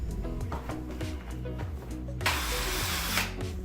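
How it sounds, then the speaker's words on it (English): A power drill bores pilot holes into wood for railroad spikes while building a side table, whirring close up and changing pitch as the bit bites, then rising into a harsher, louder grind. "I needed to pre-drill the holes for the spikes, that way they wouldn't split the wood when they went in."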